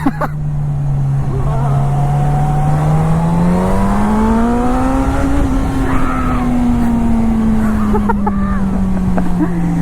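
A Suzuki GSX-S1000 superbike with a 1000cc, 140 bhp engine pulls hard in first gear, a loud, close engine note whose pitch climbs steadily and holds high under wind roar throughout.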